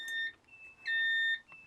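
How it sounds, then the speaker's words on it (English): A fire alarm system switched on by key gives short electronic beeps, followed by a steady tone lasting about half a second and one more brief beep, all clear with no voices. "It activates the moderator alarm,"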